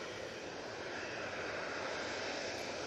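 An Aer Lingus airliner touches down on runway 23 right at Manchester Airport, heard as a steady, distant broadband jet roar that holds throughout with no talking.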